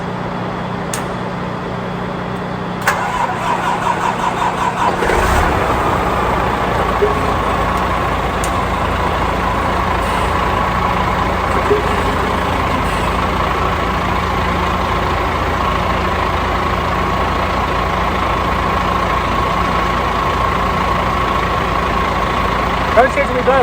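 A DAF CF85 truck's diesel engine idles steadily just after an exhaust manifold refit, a continuous low rumble running throughout, with brief clicks and a shift in tone early on.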